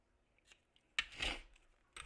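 Scissors cut straight across paper or card for a handmade angel ornament: a faint clip, then a louder sharp snip with a rasping slide and a second snip near the end, close and alone.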